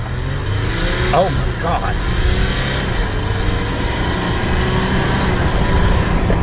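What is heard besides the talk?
2021 Jeep Gladiator diesel engine accelerating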